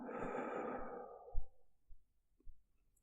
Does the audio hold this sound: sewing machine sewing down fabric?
no